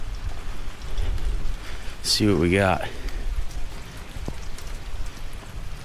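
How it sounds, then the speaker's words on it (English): Steady outdoor rain patters beside a pile of off-road axle parts, a soft continuous hiss throughout, while someone speaks briefly partway through. "It's raining out here."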